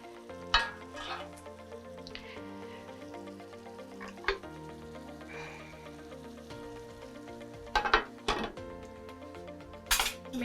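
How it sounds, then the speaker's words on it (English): Fish simmering in coconut sauce in a pan on low heat, a soft steady bubbling with occasional clinks and scrapes of utensils against the pot, close and fairly quiet, no talking. "I'm gonna reduce the heat again to low so that it can simmer for like 3 minutes"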